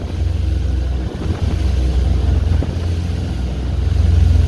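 A 2004 Sea Ray Sundancer 28 motorboat runs under power on open water with its sterndrives trimmed up slightly, giving a steady, loud low engine drone and hull noise with some wind buffeting throughout.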